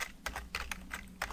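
Keys clatter on a computer keyboard as a blog address is typed, about six quick separate clicks in an uneven rhythm, close and fairly quiet with no voice.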